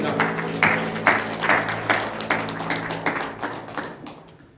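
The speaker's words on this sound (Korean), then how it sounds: "우리 하나님께 영광의 박수를 드리겠습니다." A congregation claps in steady unison during a Sunday service at a Methodist church in Miryang. The sharp, evenly spaced beats fill the hall for several seconds and then thin out at the end.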